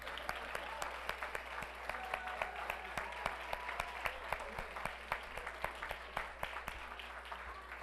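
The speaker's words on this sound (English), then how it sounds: "Let's have one more round of applause for the Johnson Jayhawks." Scattered applause from a small meeting audience for the Johnson Jayhawks, with individual claps standing out sharply and steadily throughout, fairly close but modest in volume.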